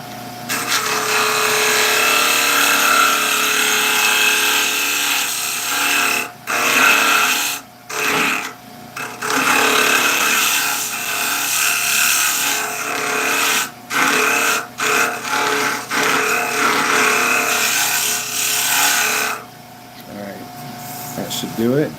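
Sharpened hex key used as an undercut tool on wood spinning on a lathe, a steady rasping scrape with a few short pauses.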